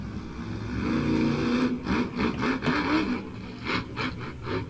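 A monster truck engine running during a freestyle run at an outdoor arena event, a loud growling motor with revving surges and rough bursts over about five seconds.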